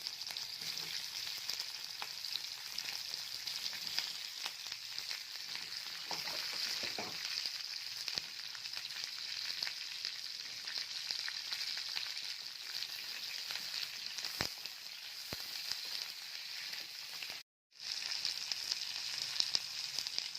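Sliced onion frying in hot oil while crab fry is being made: a continuous loud sizzle, close by, with light stirring and a brief dropout near the end.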